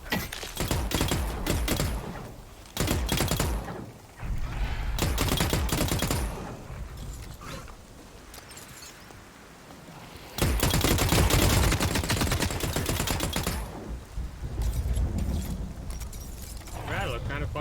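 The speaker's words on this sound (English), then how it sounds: "You're gonna hear me shoot?" Dense automatic gunfire from The Cycle: Frontier shooter, loud sustained bursts with brief pauses, rattling on and off throughout.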